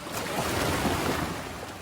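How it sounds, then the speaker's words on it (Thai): Waves wash against the shore at high tide under strong gusting wind, a dense, continuous roar of surf and wind rush close to the microphone. "มีคลื่นมีลมค่อนข้างแรงฮะ"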